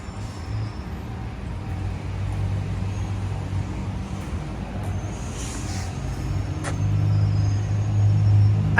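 Buses rumble through the Joliet Gateway transit center in Joliet, Illinois, a steady low engine drone that swells louder toward the end as a vehicle draws near, with faint higher background noise and no talking.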